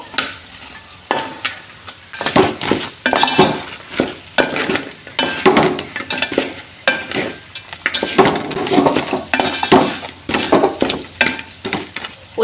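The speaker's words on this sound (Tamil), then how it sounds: "நல்லா ஒரு பெரட்டு பெரட்டிப்போம்" Crab biryani mixture is stirred in a pot over the heat, with repeated rhythmic scraping and turning strokes against a steady sizzle, close and loud, with no talking.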